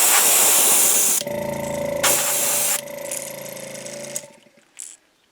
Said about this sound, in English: Most of the spray goes on the tape.